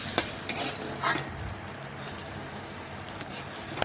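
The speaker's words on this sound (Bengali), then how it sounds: "অল্প জল দিয়ে একটু খুরপিটা দিয়ে এইভাবে নাড়াচাড়া করে দেখুন আমি ওই যে পুড়ে পুড়ে গেছে, লেগে গেছে কড়াই, ওটা কিন্তু জল দিয়েই ছাড়িয়ে নিচ্ছি।" A spatula scrapes and stirs water around a wok to loosen burnt-on residue, a close wet scraping with a few sharp metallic knocks and clinks against the pan.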